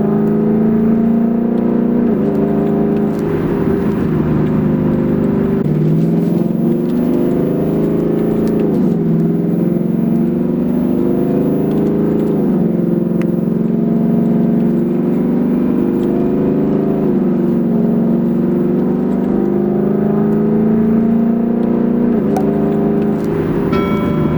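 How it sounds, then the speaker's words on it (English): A Ford Mustang engine drones loud and close from inside the car, its pitch climbing with revs then dropping at each paddle-shifted upshift, repeating several times with no talk. "pay attention to the gear indicator and how the RPMs behave as I upshift using the pedal shifters"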